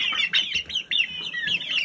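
Close, steady clucking and chirpy calls from young Ko-Shamo crossbreed chickens, overlapping in quick irregular bursts with no talking.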